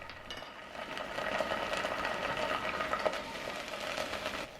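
Chopped onion stirred and fried in hot oil in a pan, a steady close sizzle with light crackling and soft scraping throughout, no talk.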